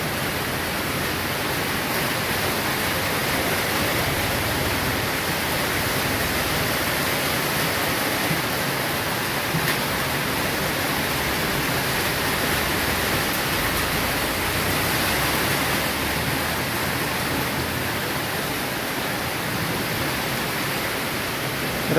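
Heavy unseasonal rain pours steadily over a Gujarati village road where water is pooling, a dense, unbroken roar of rainfall that stays loud and even throughout, with no voices.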